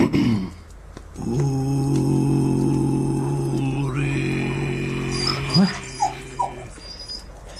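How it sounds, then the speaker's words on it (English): A dog whimpers and whines in long drawn tones, then gives a few short growls and snorts, close and loud in a radio drama adapted from Maupassant's "The Inn". "No, quiet, dog."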